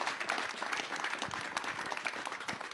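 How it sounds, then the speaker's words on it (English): An audience applauds at a Tesla event announcing a global engineering headquarters in California: brisk, crackling clapping from a crowd, heard somewhat distant and fairly soft, steady throughout with no speech on top. "Applaud, everybody."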